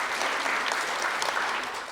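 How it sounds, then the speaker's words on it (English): Audience applause for 13 to 15 finalists at a speech competition final, a steady dense wash of clapping filling the room for the full two seconds, held at an even level with no voices over it. "let's once again put a round of applause for our 13 to 15 finalists"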